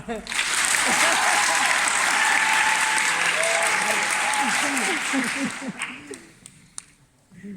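A theatre audience at an amateur youth troupe's performance claps loudly and steadily, with voices calling out over the applause, which then thins and fades into scattered claps and quiet.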